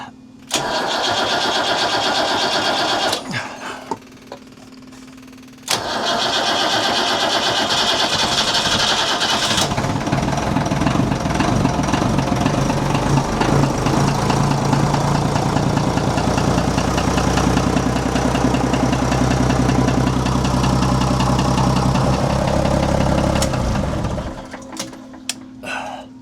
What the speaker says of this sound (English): You can hear the generator running right now.